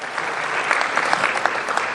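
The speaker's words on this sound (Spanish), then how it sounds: "le damos un aplauso" Audience applause for a former ambassador during a deputy's speech at a friendship league event, a lively, continuous clapping crowd with distinct individual claps standing out, fairly close and loud.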